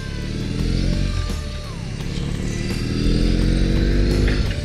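A 2021 BMW R 18 cruiser motorcycle engine accelerates with a loud, deep, steady rumble that rises in pitch as it pulls, heard up close while riding.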